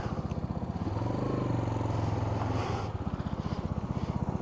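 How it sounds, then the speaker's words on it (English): A 2012 Suzuki TU250X single-cylinder motorcycle idles close by with a steady, rhythmic thumping chug, briefly rising in tone as it is shifted into first gear before settling back. "we're going to shift down into first and just kind of back out here"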